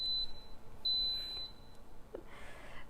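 An electric pressure cooker gives a series of thin, high electronic beeps as its yogurt program starts, loud and clear over a quiet kitchen background.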